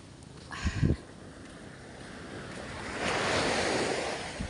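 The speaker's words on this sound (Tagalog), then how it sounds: "Hindi naman masyadong kasungit ng baksak na alon." Sea waves break on the shore and swell into a steady wash, with a couple of brief low thumps near the start and light wind rumble on the microphone.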